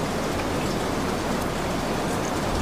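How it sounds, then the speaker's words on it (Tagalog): Steady rain hisses down continuously, a dense wash of patter with no pauses and no voices. "Umuulan"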